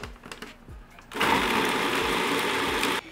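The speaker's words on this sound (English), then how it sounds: "I'm gonna put the lid on and start it blending." A countertop blender whirs loudly through a thick mix of tofu, soaked cashews and salt, a steady high motor whine lasting about two seconds before it cuts off abruptly.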